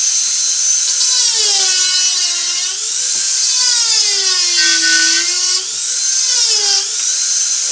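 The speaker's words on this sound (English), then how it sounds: "Is my Dremel at full blast?" A Dremel rotary tool at full speed carving a wood spirit face, a loud continuous high-pitched whine that rises and dips in pitch as the bit presses into and eases off the wood.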